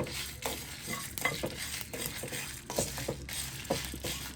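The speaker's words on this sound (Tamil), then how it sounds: "பெருஞ்சீரகம், சின்ன சீரகம் எல்லாம் வெடிக்கும்." Dense crackling and popping with frequent sharp ticks from fennel and cumin seeds roasting in a hot pan, with occasional stirring scrapes throughout.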